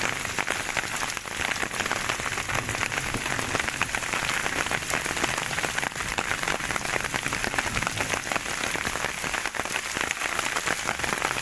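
Rain falls on farm fields in Sonipat district, soaking harvest-ready crops. A dense, steady patter of drops stays close and even for the whole stretch, with no voices.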